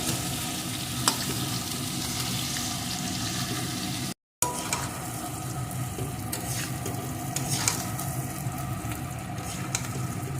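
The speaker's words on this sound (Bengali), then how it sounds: "এখন সব কিছু সুন্দর করে ভেজে নেব" Turmeric, spices and slit green chillies fry steadily in hot oil for a magur fish and taro curry, a dense continuous sizzle with scattered crackles and stirring scrapes, briefly cut by a short silent gap.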